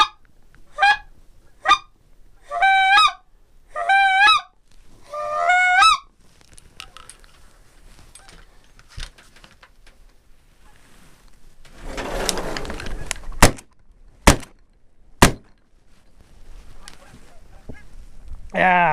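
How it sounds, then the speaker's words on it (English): A flock of geese honking during a hunt from a pit blind, several loud close bursts of repeated honks in the first seconds, followed by sharp shotgun-like blasts and rustling. "Geese are starting to get up and move around a little bit."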